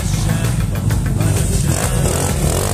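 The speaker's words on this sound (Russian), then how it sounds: "Газ до конца держим!" An engine is revved hard and held at full throttle on a rainy day, making a loud, steady, continuous roar close by with no break.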